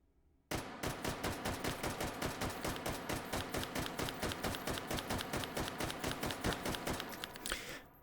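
An AK rifle, a modernized AK-74 type, fires in Hot Dogs, Horseshoes and Hand Grenades, a rapid, evenly paced string of about thirty loud, close shots that starts abruptly after a brief silence and stops near the end.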